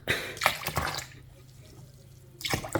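Lukewarm water poured for mixing dough while preparing food the day before Eid, heard as short splashing bursts at the start and again near the end with a quieter stretch between, close and fairly loud.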